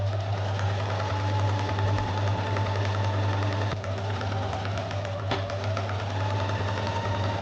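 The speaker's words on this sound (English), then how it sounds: "And then you're gonna stitch along here." Machine stitching along fabric for a child's dress, a continuous close buzzing hum with faint tapping underneath, steady from start to finish.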